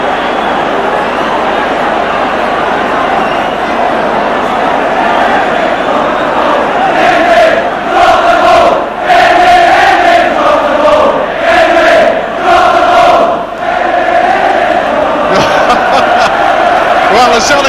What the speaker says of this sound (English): You can hear from the crowd he didn't like that decision.